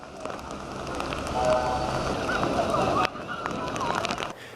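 A sudden heavy downpour falls in Taksim, Istanbul, a dense, continuous hiss of rain hitting the street and surfaces, loud and close, with brief sharp spatters.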